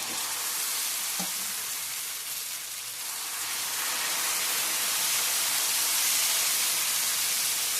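Moong dal dosa batter sizzles on a hot griddle over low heat: a steady, close hiss of frying that grows slightly louder and fuller as it goes, with no talking.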